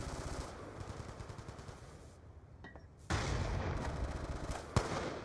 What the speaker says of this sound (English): I almost shot my teammate.